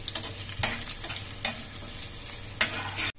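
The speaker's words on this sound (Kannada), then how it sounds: "ಈ ಬೆಳ್ಳುಳ್ಳಿ ಚಂದ ಫ್ರೈ ಆದದ್ದು ಪರಿಮಳ ಬಂದಾಗ" Garlic sizzling in hot oil in a pan for an egg fry side dish, a steady crackling hiss with a few sharper stirring scrapes at intervals, close and moderately loud, no voices.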